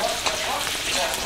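Chopped onions frying in leftover fish-frying oil make a dense, steady sizzle close up, with faint stirring and no talking.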